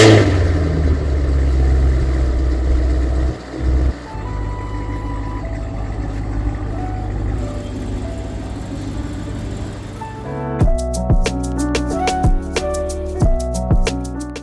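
A Cadillac CTS-V with a 640 hp engine rumbles deeply at low revs, then several quick throttle blips rise and fall in sharp bursts near the end, heard from inside the car during a drive.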